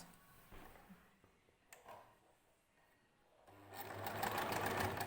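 Sewing machine stitching a long dress, the motor whirring up loudly in the second half after quieter handling clicks and rustles at the start.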